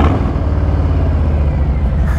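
A Harley-Davidson Softail Standard motorcycle with Vance & Hines pipes idles with a deep, continuous exhaust rumble, loud and close, holding a steady throb the whole time.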